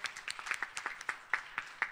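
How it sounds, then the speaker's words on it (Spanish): A small group claps at an accessibility event in Mexico, a sparse scattering of distinct individual claps, roughly a dozen separate hits over two seconds, fairly faint. "Pero otra vez le damos un aplauso"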